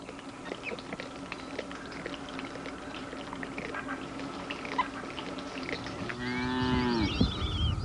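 Cattle on a Brazilian sugarcane farm moo once, loud and near, a drawn-out low call near the end that rises out of faint outdoor background noise.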